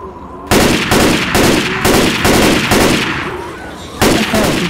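Gunfire in the Left 4 Dead 2 zombie shooter, loud repeated bursts of shots in a steady rapid rhythm, close and dominant, with a brief pause before a final burst.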